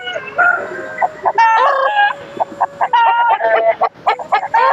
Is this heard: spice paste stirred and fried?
no